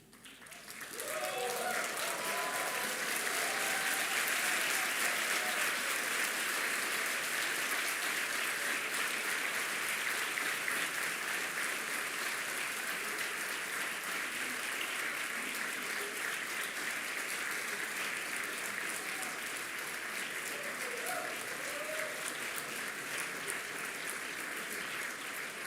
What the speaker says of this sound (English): give an applause to everybody who's here to support you